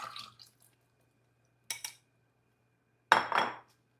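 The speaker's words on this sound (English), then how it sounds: "I'm just going to strain this with the water next to the camera" Onions being strained with water in a kitchen strainer: a brief splash and clink early, a short rattling pour in the middle, then a louder wet splashing burst near the end, close by with silence in between.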